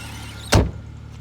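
The door of a 1995 Jaguar Sovereign closes with a single solid thud, close by, and quiet background hum follows.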